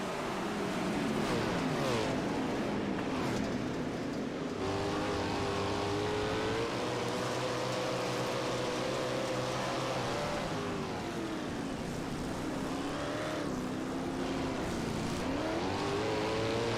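410 sprint cars race under green flag on a half-mile dirt oval, a dense, loud roar of several engines with rising and falling revs as the pack circles, heard from nearby without talk.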